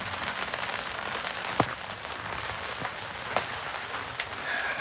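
Rain falls steadily on a boat cockpit on the Neuse River, a dense soft patter with a few sharper drops striking nearby, continuous and fairly quiet with no talking.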